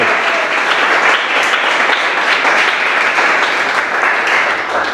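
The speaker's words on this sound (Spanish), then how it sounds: "la iglesia da aplausos al Rey que vive y permanece para siempre" A church congregation at a Sunday service claps together in sustained, loud applause, a dense and even roar of many hands lasting several seconds without pause.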